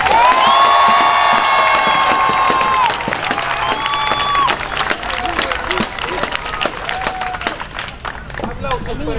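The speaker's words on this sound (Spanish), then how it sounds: "¡Aplausos para el guerrero oscuro!" An audience at a costume contest cheers and applauds for a dark-warrior entrant, with excited children shouting. A loud opening burst of shouting eases into steady clapping, whoops and babble.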